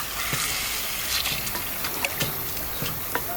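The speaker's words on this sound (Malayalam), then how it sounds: "ഫ്ലെയിം കുറച്ചതിന് ശേഷം കുറച്ച് ഇത്തിരി അങ്ങോട്ടേക്ക് വെള്ളം ആഡ് ചെയ്ത് കൊടുക്കാം" Water poured into a pan of Kerala-style chicken mappas curry over lowered flame, a sizzling, hissing gush with small bubbling pops and clinks, fairly close.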